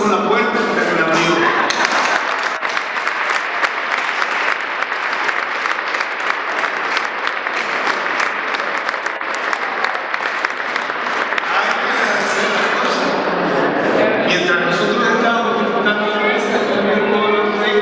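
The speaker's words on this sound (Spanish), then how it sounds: "yo creo que si hoy alguien se merece un aplauso" Sustained applause from a church congregation at a Mass in El Carmen Zumacal, dense and steady for most of the stretch, thinning toward the end as scattered voices and chatter rise underneath.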